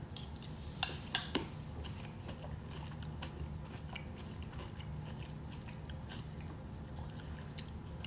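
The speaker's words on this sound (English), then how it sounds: "Now that rutabaga is going to be crunchy because it wasn't microwaved long enough." Someone bites and chews crunchy, undercooked microwaved rutabaga with onions up close. A few sharp crunches come early, then quieter chewing follows under faint background noise.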